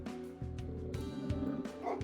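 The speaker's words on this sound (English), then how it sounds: "The barking dog." An agitated dog in Trails of Cold Steel IV barks in quick, close bursts over background game music.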